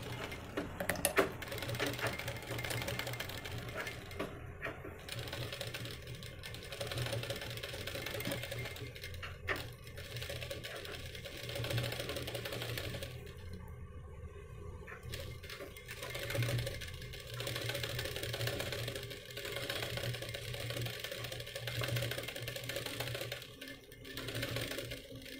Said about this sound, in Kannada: ಈ ಥರ ಎಡ್ಜಿಗೆ ಒಂದು ಸ್ಟಿಚ್ಚನ್ನು ಹಾಕೊಂಬಿಡಿ.